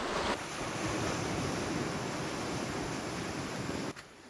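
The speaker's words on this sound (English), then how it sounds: "Literally where the jungle meets the ocean." Ocean surf breaking where the jungle meets the sea on the Costa Rican coast, a steady loud wash of waves with wind rushing across the microphone, continuous for several seconds and dropping off abruptly at the end.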